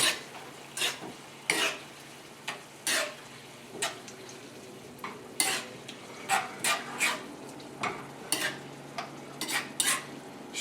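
Shrimp saganaki sauce with honey and red pepper flakes is stirred in a pan: a quiet simmer broken by repeated sharp scrapes and clinks of a utensil against the pan, close up.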